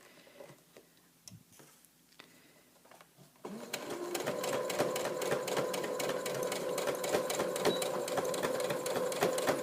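A sewing machine stitching a memory teddy bear's head and ear seam starts after a few seconds of faint handling noise, then hums steadily and fairly loud, with fast regular ticking from the needle.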